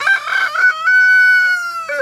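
A rooster, one of the last two on a farm, crows loudly and close by in a single sustained call with a strained, wavering tail.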